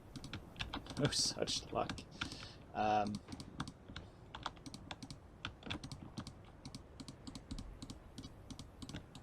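Rapid, irregular clattering on a computer keyboard, close and quiet, with brief spoken remarks near the start.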